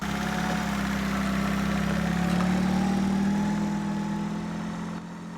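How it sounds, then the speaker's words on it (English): A 500cc Microcar engine runs with a whirring, steady hum and a mid-pitched drone that rises slightly then fades near the end, heard close and alone. "the sound of the engine. It sort of whirs into life like a sort of turbocharged sewing machine"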